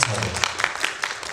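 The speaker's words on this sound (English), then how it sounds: "Let's give him a round of applause, everybody." Audience applause at a short film festival screening Q&A, a dense patter of clapping heard with speech over it, fairly loud and continuous.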